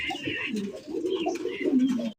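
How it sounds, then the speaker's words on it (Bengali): Fancy pigeons coo in low, rolling repeated calls up close, with a couple of birds overlapping in a noisy market-like setting. "আকাশি কালারের কালারিং রাসগোল্লা কবুতর পাওয়া যাইতেছেন।"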